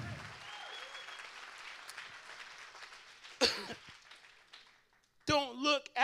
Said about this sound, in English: Come on and clap for the Lord right now.